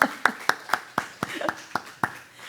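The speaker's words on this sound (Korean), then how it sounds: "박수 한번 하세요." About ten sharp hand claps in a loose, even rhythm from a church congregation, fairly close and distinct with quiet gaps between them.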